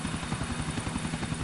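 A helicopter flown in GTA IV gives a steady, close rotor chop, a rapid rhythmic thumping that holds evenly through the short stretch with no voices.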